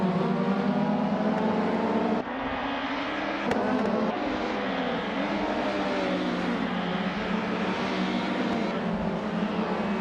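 Racing cars, including a 1996 Vauxhall Vectra, droning around a circuit in a video game, with a steady, loud engine hum and a small change in tone partway through, and no voices.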